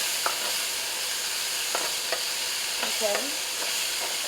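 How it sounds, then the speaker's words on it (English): Celery and other vegetables sizzle steadily in an extremely hot pot for a Bahamian stew fish, with a bright continuous frying hiss broken by scraping stirring strokes; a voice briefly speaks. "Keep on stirring because we don't want our veggies to burn"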